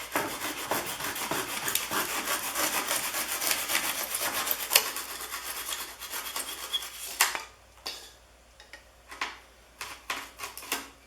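Hand tool scraping and rasping material from the back of a piece of crown moulding, a dense continuous close-up scratching for several seconds, then stopping into a few scattered knocks and light scrapes.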